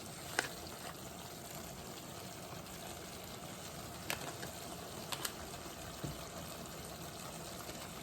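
Pork with peppers sautéing in a pan, a soft, steady sizzle throughout with a few faint utensil taps scattered over it, fairly quiet and close.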